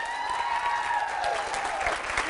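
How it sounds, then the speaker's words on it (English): A motivational-talk audience breaks into energetic applause, dense clapping that fills the room for a couple of seconds, with a bright whooping cheer riding over it. "Now let's do a level 10 round of applause."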